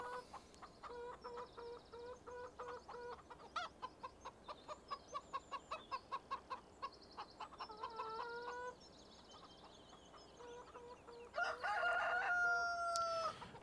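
Chickens in Farming Simulator 17 cluck in a steady, rhythmic stream of short calls, with a rooster crowing partway through and again loudly near the end, all without speech.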